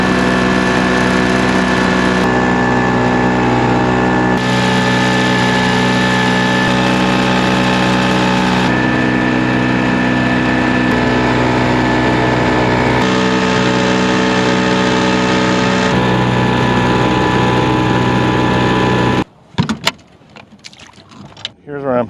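A 7.5 horsepower outboard motor runs steadily on a small Jon boat out on the water, a loud constant buzzing drone heard close for about nineteen seconds before it cuts off, with some talking.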